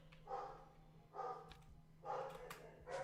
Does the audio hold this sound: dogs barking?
yes